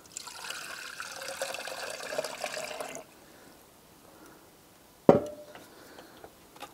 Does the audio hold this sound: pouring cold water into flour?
yes